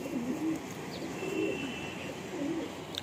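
A Madrasi pigeon coos several times in soft, low, rolling calls spaced across a few seconds, close by against a quiet background hiss.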